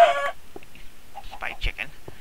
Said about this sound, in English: Spy chicken.